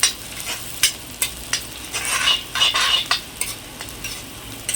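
Onions with a little salt frying in a pan while a spoon stirs them briskly, giving loud clattering scrapes over a continuous close sizzle.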